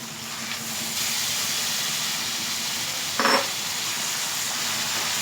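300 grams of mutton added to a hot pan for gongura mutton curry set off a steady, hissing sizzle that stays even throughout, with one brief louder crackle partway through.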